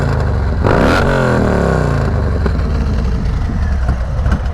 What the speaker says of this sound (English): Here's a couple revs for you